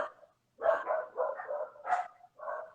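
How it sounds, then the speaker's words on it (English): Several dogs barking in quick bursts, a run of close, loud barks and yips with short gaps between them, heard alone. "That's my dogs."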